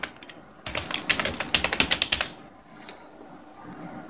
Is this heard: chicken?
no